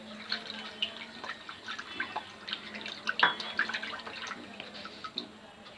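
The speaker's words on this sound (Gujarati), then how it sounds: "એક ટબ લેવું, એમાં પાણી ભરવું અને તે પેસ્ટને એમાં નાખવું." Water trickles and drips into a tub during a school science demonstration, a faint, steady splashing with scattered small drops and no talk.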